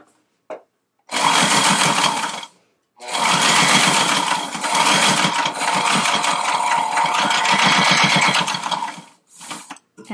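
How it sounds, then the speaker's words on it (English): A sewing machine stitches a fabric tie onto a dining chair slipcover in loud, close bursts of fast mechanical whirring, separated by brief pauses. "And sew on the tie."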